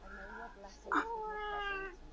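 A house cat up on a table indoors lets out one drawn-out meow, close and fairly loud, that rises and then falls away.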